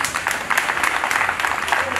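An audience at a community association gathering claps and applauds in a dense, steady patter of many hands, with voices mixed in underneath.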